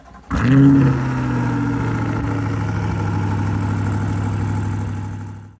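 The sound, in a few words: Corvette engine cold start and idling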